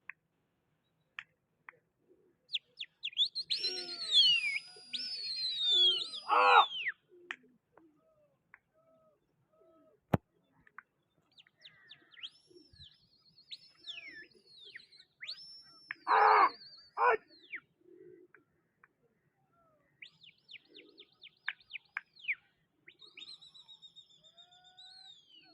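Pigeons in hot weather give sparse, faint cooing and whistled calls in short bursts separated by quiet gaps, with a few clicks, and no one speaks.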